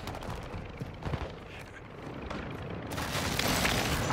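Video game gunfire rattles in dense bursts amid booming explosions and battlefield rumble, growing louder and brighter toward the end with no speech.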